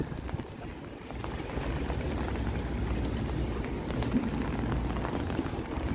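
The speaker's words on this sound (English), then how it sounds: "And there goes the water taxi" A steady low rumble of a water taxi engine heading out on a choppy, stormy lake at Toronto's Harbourfront, with churning water and choppy wash, continuous and moderately distant.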